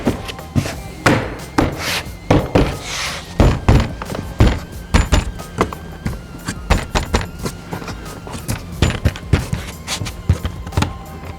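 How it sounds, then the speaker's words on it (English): A series of hard plastic thunks and snaps, irregular and close, as a Ford Bronco door panel is pressed and knocked into place during a speaker kit install. "we go ahead and snap the door in place"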